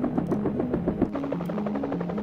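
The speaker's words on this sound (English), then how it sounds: "It's an attack helicopter!" An attack helicopter in a video game, its rotor beating in a fast steady chop over a loud droning engine whine, close and constant throughout, with no talking.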